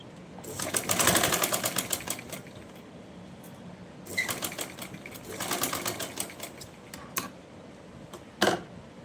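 An electric sewing machine stitches a patiala salwar in several bursts of rapid mechanical clatter, each lasting a second or two, separated by quieter pauses and a short final burst.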